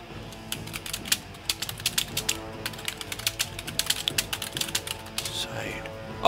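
Quick, irregular bursts of keystrokes clatter on a computer keyboard during an online Total War: Arena battle, sharp clicks landing in uneven runs that are fairly close and moderately loud.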